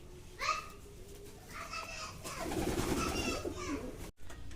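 Soft pigeon coos rise and fall amid a wet rustling and fluttering as pigeons bathe in water, fairly close, with a brief thump near the end.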